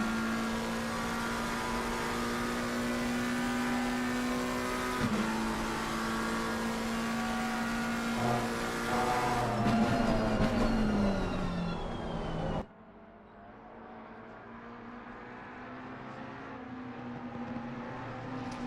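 GT3 race cars lapping the Barcelona circuit in a racing video game, a steady high engine drone that rises and shifts with gear changes before cutting to a quieter, lower hum, with no talking.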